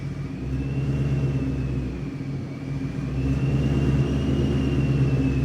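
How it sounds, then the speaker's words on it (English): A turbocharged Ford Mustang engine drones steadily as the car drives, with a low rumble and a rising and falling whine, loud and close throughout. "We must listen to my turbo."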